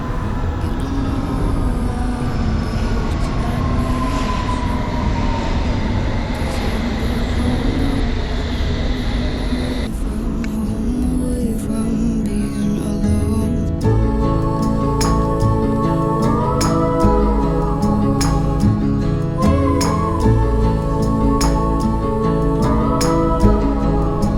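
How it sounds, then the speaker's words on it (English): A London Underground train rumbles steadily into the station, its wheels squealing and grinding as it slows, with a heavy, continuous roar throughout. "just wanted that train coming in from the right"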